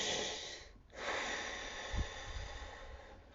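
Slow, deep breathing imitating someone drawing on a cigarette, a long airy inhale and exhale close to the mic followed by a soft low puff, heard alone without talk.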